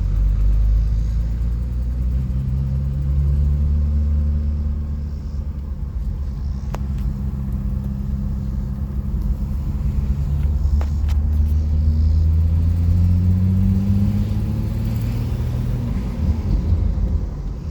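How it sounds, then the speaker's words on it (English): A car engine, a turbocharged 3800 V6 in a G-body Grand Prix with a T56 swap, idles with a steady low rumble, holding constant throughout with slight swells in pitch and no talking. "car's running pretty good"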